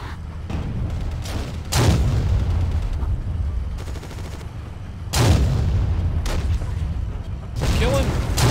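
Heavy gunfire and cannon-like booms in the WWII Online game as a tank is hit repeatedly, several loud blasts spaced a few seconds apart over constant battle rumble, with voices talking throughout.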